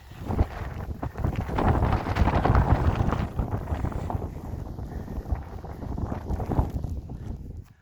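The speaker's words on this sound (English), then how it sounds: "we have some wind coming on from this side" Wind gusts buffet the microphone on a mountain hike toward Puig de ses Basses near Sant Elm, a loud rumbling roar that swells and eases with no voices.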